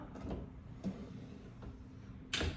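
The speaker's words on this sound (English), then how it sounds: "Did you hear that click? Okay, that click means it locked into place." A heavy drawer is pushed shut on its slide in a quiet room, giving a few faint clicks and a louder final click-thud as it locks into place.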